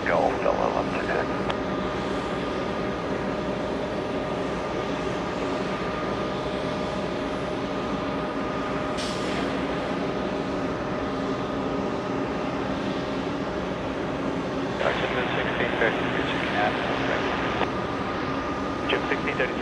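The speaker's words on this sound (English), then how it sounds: "We have Delta 47, and that's an Airbus A330-300 from Amsterdam" A Delta Airbus A330-300 arriving from Amsterdam at JFK airport gives a steady, broad jet roar that fills the whole stretch at an even loudness, with a faint hum underneath.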